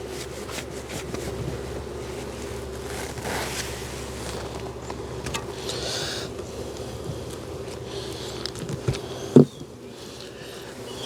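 Honey bees drone steadily during a bee cutout, a close, continuous buzzing hum with individual bees swelling louder as they pass near, plus a brief knock near the end and no talking.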